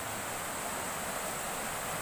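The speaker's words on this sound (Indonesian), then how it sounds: "Ini sungai yang biasa kita pakai untuk river tubing." A river used for tubing flowing below a valley site beside rice paddies, a steady, even rush of water, moderately loud and continuous with no voices.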